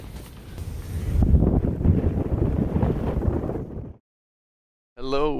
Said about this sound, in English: Wind gusts of 70 to 80 kilometers an hour.